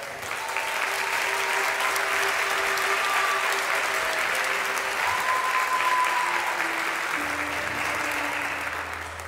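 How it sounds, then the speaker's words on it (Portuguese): Dense, steady applause from a church congregation, holding at an even level throughout with faint music tones underneath. "uma salva de palmas"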